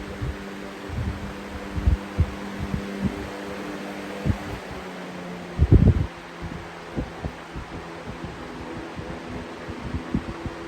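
FF305 box fan with a replacement blade on a 1.0 amp motor runs with a steady low hum and whir, broken by soft irregular thumps and knocks, close by, no talking.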